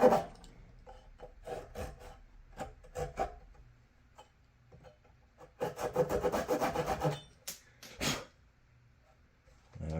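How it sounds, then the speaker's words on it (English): A file or small saw rasps across wood while the nut slot is cut on a handmade guitar, coming in short scraping strokes with a longer dense burst in the middle, close and fairly quiet. "Now we need to cut the nut slot. Nut cutting time."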